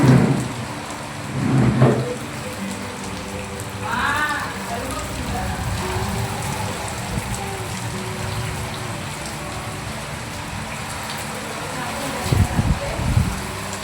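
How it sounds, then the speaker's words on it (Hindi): Heavy, continuous monsoon rain pours down in Prayagraj during a flooding night, a dense steady hiss throughout with a few louder thumps and brief bursts of nearby voices. "अब 15 मिनट से कंटिन्यूअसली बरसात शुरू है"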